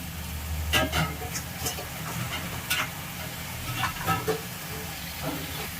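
Tomatoes sautéing in a pan for a chicken gravy give a steady sizzle and hiss, broken by sharp scraping clicks from stirring, close and moderately loud.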